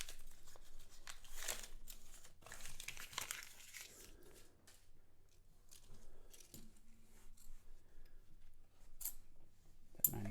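A paper half-dollar coin roll wrapper is torn and crinkled open by hand, a quiet stretch of crumpling and ripping that comes and goes in short bursts with no talk.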